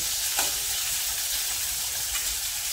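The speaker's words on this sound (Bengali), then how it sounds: "আমি 3 থেকে 5 মিনিট ধরে উচ্ছেটা ভেজে নেব।" Sliced bitter gourd fries in a pan with a continuous hiss of hot oil, steady and close, broken by a couple of faint stirring scrapes.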